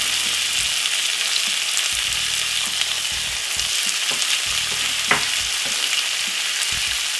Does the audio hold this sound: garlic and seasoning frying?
yes